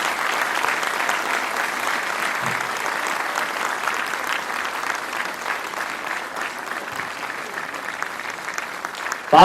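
Sustained audience applause fills a Christmas event hall in Nepal, a dense steady clatter of many hands that holds evenly throughout before a sudden louder burst at the very end.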